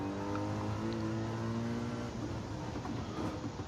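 Race car engine in the Gran Turismo 7 racing game on the final corners of the last lap, a loud steady engine tone holding, then shifting into rougher, busier noise toward the end, with no talking.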